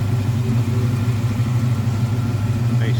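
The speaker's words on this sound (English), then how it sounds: "Smooth running, good sounding engine" A 1964 Chevrolet Chevelle Malibu SS V8 idles nearby with a loud, steady, smooth low burble and an even rhythm throughout.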